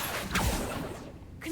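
A Confringo fire spell is cast in the game Hogwarts Legacy, heard as a short whooshing swish with a rising burst that fades within a second and a half.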